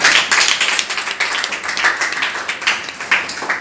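Hands clapping in rhythm at a Saturday healing church service, many people clapping together in a quick, steady beat, loud and close throughout.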